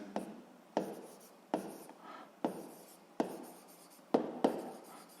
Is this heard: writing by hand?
yes